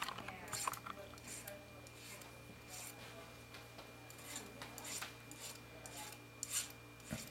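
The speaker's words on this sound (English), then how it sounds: "I'm going to go ahead and clean these edges up too before I roll it down." A metal file rasps along the edges of a wire-wrap metal piece in repeated short strokes, faint and close, with a steady low hum underneath and no speech.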